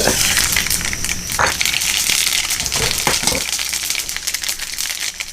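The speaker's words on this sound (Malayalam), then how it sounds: "കടുക് പൊട്ടി," Mustard seeds crackling in hot oil for a beef curry, a loud, close, dense spatter of tiny pops and sizzle running throughout, easing off slightly toward the end.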